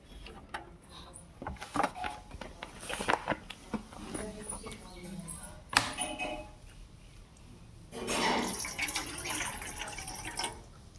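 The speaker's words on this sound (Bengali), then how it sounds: "এই যে বাটিটা নিয়েছি ধুয়ে, এবার ওকে জল দেবো।" Water poured from a tap into a freshly washed dog's drinking bowl, a short rushing splash near the end amid faint clinks, drips and background bird chirps, with some talk nearby.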